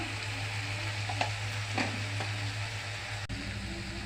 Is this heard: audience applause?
no